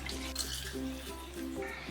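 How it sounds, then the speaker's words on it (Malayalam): Water is poured into a clay pot over peeled ripe mango for a mango curry, a close running trickle and splash under faint room sounds and brief tonal clatter. "ഇതിലേക്ക് ഇനി രണ്ട് കപ്പ് വെള്ളം ഞാൻ ഒഴിച്ചു കൊടുക്കുകയാണ്"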